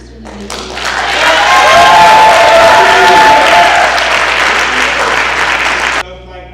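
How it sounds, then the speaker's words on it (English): Applause at a school academic awards night for a staff member, a loud sustained clapping of a large crowd that swells quickly, holds for several seconds, then cuts off. "Let's give a round of applause for Mr. Larry Keeling"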